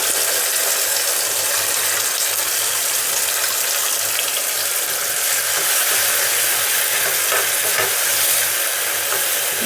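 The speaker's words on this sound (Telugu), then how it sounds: "ఉల్లిపాయలు సరే అలా వేగనిద్దాము" A blended paste of onion, tomato, ginger and garlic fries steadily in a pan, a loud, continuous hissing sizzle that holds without pause throughout.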